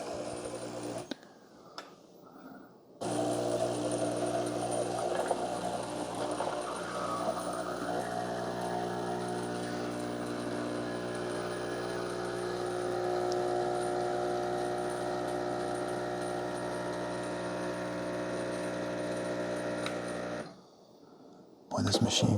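A Mr. Coffee One-Touch CoffeeHouse EM6701SS espresso machine pulls an espresso with a steady mechanical pump hum and a faint tone for about seventeen seconds. It starts and stops abruptly, with quiet gaps around it.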